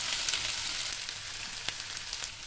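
Potatoes shallow frying in oil in a kadhai give a steady, close sizzle with a few faint crackles, carrying on alone without any talk.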